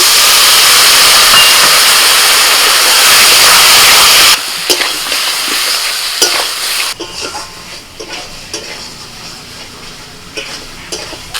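Water from ground spice paste hits potatoes frying with turmeric and Kashmiri chilli powder and sets off a loud, roaring hiss. The hiss cuts off sharply and gives way to quieter bubbling and scattered scraping stirs.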